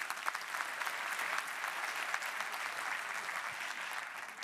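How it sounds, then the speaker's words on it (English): Conference audience applauding at a transport and mobility plenary, a broad, even wash of many hands clapping at moderate volume throughout. "Give an applause for one of our members, please."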